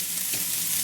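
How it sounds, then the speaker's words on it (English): Onions and garlic frying in a pan as the base for dahl, giving a close, steady bright sizzle with a faint stirring scrape partway through, no voices. "It's a bit noisy because the onions are frying."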